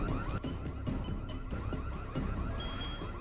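A car alarm blares across a street at night in a television drama, cycling through rapid repeating electronic whoops and tones, loud and continuous.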